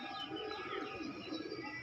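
Many pigeons, Andhra-line birds among them, coo in a continuous low murmur with occasional chirps, close and fairly quiet, no voices.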